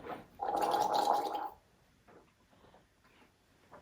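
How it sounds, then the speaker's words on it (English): Vigorous mouth rinsing and gargling for oral care: one bubbly gargle of about a second, close and clear, then near silence with faint small sounds. "So rinse vigorously, gargle,"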